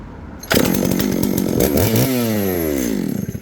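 An M&W 660 Pro-Duty chainsaw pull-started, with a rope pull or two, then the engine catches and roars loudly up close before its revs fall away and it sputters toward the end.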